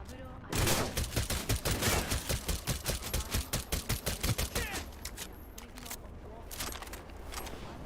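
Gunfire in Cyberpunk 2077: a sustained automatic burst of rapid, evenly spaced shots rings out loud and close for several seconds, then tapers into scattered rattles and ambient noise.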